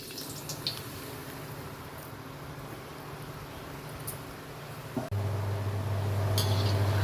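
Multigrain murukulu dough is pressed into hot frying oil, a steady soft sizzle and crackle that swells into a louder, denser frying hiss after a faint clink partway through.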